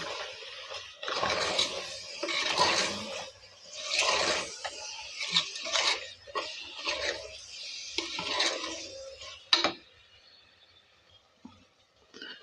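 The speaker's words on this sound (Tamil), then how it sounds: "போட்டு நல்லா கிளறி விடுறோம்." Mutton curry with coriander powder being stirred in a pot, a series of scraping, clattering strokes of a spoon against metal in irregular bursts, close and fairly quiet, fading near the end.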